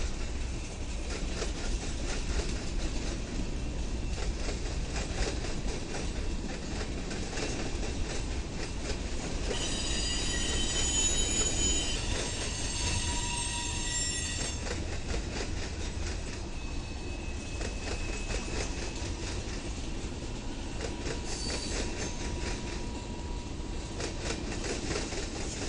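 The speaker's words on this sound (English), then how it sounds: "behind the camera, we catch a CSX Heritage unit" A CSX heritage unit train rolls past, with a long steady rumble of railcars, rhythmic wheel clicks and a bright squeal of wheels midway, heard from trackside without talk.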